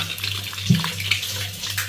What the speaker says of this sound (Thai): มาดูกันน้ำจะไหลไหม